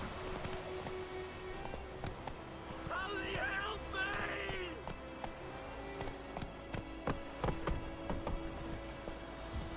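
Hoofbeats of the horse Roach in The Witcher 3, a rhythmic clip-clop of galloping hooves continuing throughout, with a voice speaking over it and a brief whinny-like sound in the middle.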